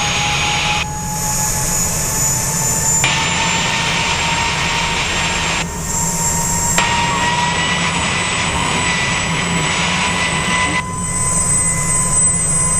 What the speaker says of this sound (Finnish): helikopteri ja Delta 68 suorittaa lentoon lähön Vuokatista